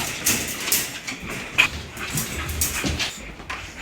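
Dogs whimper and give short yips and barks in a restless, uneven run, fairly close and moderately loud, with no talking over them.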